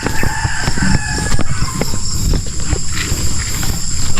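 A rooster crows over a noisy farmyard background with goats and pigs nearby, loud and fairly close, with other animal and ambient sounds throughout.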